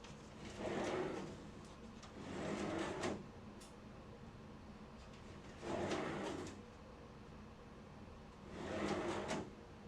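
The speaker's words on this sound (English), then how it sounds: "let's simply slide the drawer into place and click" Drawer on undermount slides glides into a cabinet four times, each a rolling slide of about a second ending in a soft click, close and clear with quiet pauses between.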